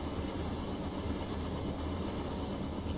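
An Amtrak ACS64 electric locomotive passes in Train Simulator 2016, a steady, dense rumble and roar of rail noise that holds at an even level throughout, with no voices.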